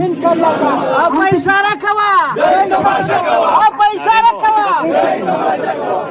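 A large crowd at a political rally chants slogans in loud rhythmic unison, many voices rising and falling together, close and dense throughout with no pause.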